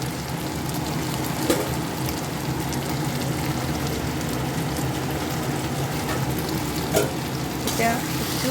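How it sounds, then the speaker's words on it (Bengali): Chopped onion and spices frying in hot oil in a frying pan, giving a steady, close crackling sizzle throughout with a few brief stirring scrapes and no talking. "এখন আমি একটু পেঁয়াজটা সাঁতলে নেব।"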